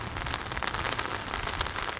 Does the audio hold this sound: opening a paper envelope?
no